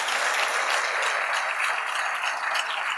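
An audience claps in dense, sustained applause throughout, loud and even with no voices over it.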